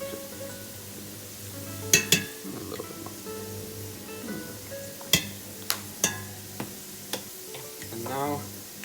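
Smoked paprika and other spices hitting hot oil in a frying pan while beans and rice cook, giving a soft steady sizzle broken by several sharp clinks and taps of a utensil against the pan.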